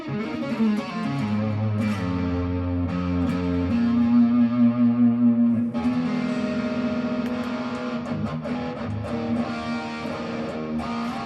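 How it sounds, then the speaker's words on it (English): Boss DD-2 digital delay pedal, a 43-year-old unit, on a distortion guitar channel, playing sustained overdriven chords and notes with repeating echoes trailing behind, loud and continuous with no talking. "This device, as a digital delay, gives you a crispness in your distortion channel"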